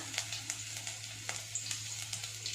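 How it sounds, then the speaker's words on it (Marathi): Garlic cloves fry in hot oil in a kadhai with a constant quiet sizzle and a series of small crackles and pops at irregular intervals, heard alone without speech. "तेल छान गरम झालं की सर्वात आधी लसणाच्या पाखळ्या घालायच्या"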